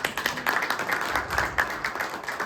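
A crowd gives a short burst of steady clapping applause at a Republican gathering in Sacramento, dense and continuous for a couple of seconds.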